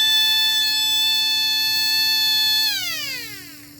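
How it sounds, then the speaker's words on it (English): An Apex F-901 motor-driven fire and burglar alarm siren in an all-metal housing wails at a steady, loud, harmonic-rich pitch close by, then winds down in a falling glide as the motor slows, with no talking. "So it is a motor-driven siren."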